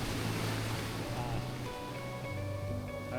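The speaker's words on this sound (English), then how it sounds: "The waves are kind of picking up, I think." Continuous rushing surf at Stradbroke Island, Australia, with a broad wash of water and wind noise, loud and constant, with a low engine-like hum running underneath.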